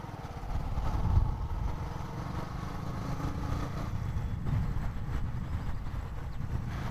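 A motorbike engine drones steadily while riding on a Sunday long ride from Delhi toward Uttar Pradesh, a continuous low rumble with wind buffeting the microphone, no voices heard.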